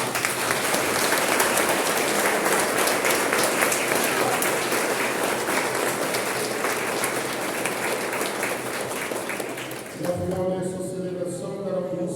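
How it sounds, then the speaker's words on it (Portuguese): Congregation applause at a Catholic church mass, a sustained loud round of clapping from many people filling the space, ending abruptly near the close as a voice and soft music take over. "manifestamos nossas alegrias com uma salva de palmas"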